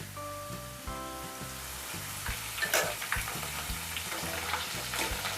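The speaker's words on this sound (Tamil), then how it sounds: "நம்ம சால்ட்டு சேர்த்த தண்ணியை வந்து ஒரு ஸ்பூன் எடுத்து இந்த ஆயிலே போடுங்க." Salted water spooned into hot oil for frying potato chips, with crackling sizzle and spattering bursting out over a low steady frying hiss, close and fairly quiet, no speech.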